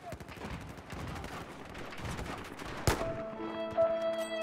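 Gunfire in the shooter game Battlefield 4, a burst of rapid shots with one sharp loud crack near the middle, followed by ringing tonal game effects, heard over continuous mixed game noise.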